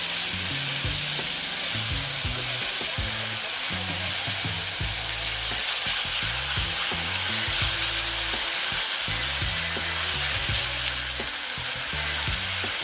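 Onion paste fries loudly in a hot pan for fish curry with mustard, a dense, steady sizzle with irregular crackling bursts, close and continuous with no voices.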